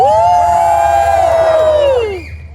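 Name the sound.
audience cheering at Disneyland show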